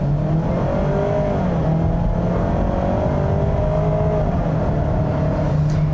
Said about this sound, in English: I'm going to put it into sport mode here for the transmission. It's floored right now.